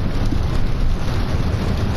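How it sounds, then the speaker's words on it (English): Steady rain outside, a dense continuous hiss with low rumbling beneath it, with no pauses and no voices. "I think it's raining outside right now, which it is"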